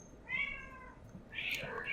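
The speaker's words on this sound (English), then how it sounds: "My cat just woke up, I think. She's saying good morning." A pet cat named Bubbles, just awake, gives two drawn-out, whiny meows close to the microphone, the second higher and brighter than the first, with a soft breathy background and no talking.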